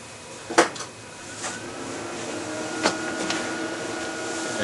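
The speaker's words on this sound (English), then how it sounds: "we're gonna power up the printer." A printer powering up after a control board install, giving a few short mechanical clicks and clunks over a low steady motor hum that slowly builds.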